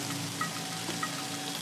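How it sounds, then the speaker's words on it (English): Steady hiss of rain falling in the woods, an even broadband patter with a few distinct drops, moderately close and continuous with no voices. "God, it's raining right now."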